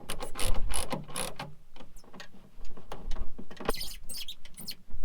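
Speaker mounting bolts on a Toyota truck are turned by hand, giving a run of close, small ratcheting clicks and scraping mechanism noises in irregular bursts.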